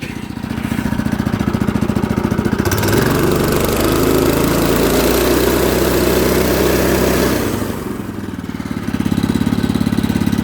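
A Tecumseh small engine on a putt putt, governed at 4,500 RPM with a slight throttle hang, runs loud and close with a steady pulsing drone that rises to a rougher, busier roar midway before settling back.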